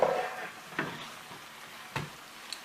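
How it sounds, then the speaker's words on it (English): Tomatoes, bacon and eggplant are stirred in a pan, giving a few scattered scrapes and clacks of a utensil against the pan over a faint, quiet sizzle. "Just going to kind of stir everything around a little bit."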